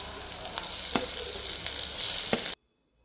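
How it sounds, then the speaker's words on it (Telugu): Ivy gourd pieces fry in oil with onions and chillies, giving a loud, dense, close sizzle with a few stirring clicks before it cuts off abruptly into silence. "ఇలా ఎర్రగా వేగిన తర్వాత దొండకాయ ముక్కల్ని యాడ్ చేసుకోవాలి"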